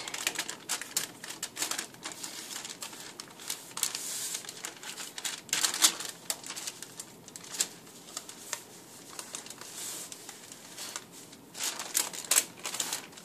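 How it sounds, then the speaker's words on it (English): Paper rustles and crinkles as it is peeled away from a rolled meat roll, a long run of irregular crackling and soft scraping taps with no talk. "as you continue rolling, you just have to pull the paper away from it"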